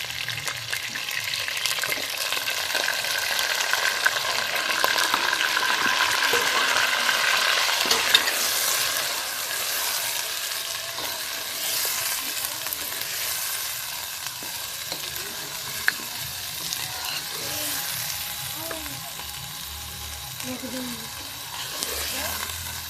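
Chicken frying in a pan for malai boti, with onions being added, gives a continuous loud sizzle. Stirring scrapes run through it and the hiss eases somewhat in the second half.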